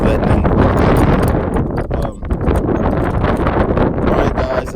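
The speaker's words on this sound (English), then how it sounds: "it's windy" Strong gusting wind buffets the microphone on a rooftop pigeon loft, a loud continuous roar and rumble with brief dips, close and overwhelming.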